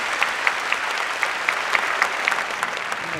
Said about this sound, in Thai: ขอเสียงปรบมือให้น้องโอ๊ตหน่อยนะครับ